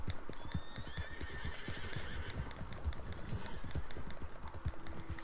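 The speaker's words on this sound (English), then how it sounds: "Running with the horses." Horses gallop in Red Dead Redemption 2, a dense, fast drumming of hooves with a whinny rising over the rhythm, steady and fairly close beneath a low bed of game ambience.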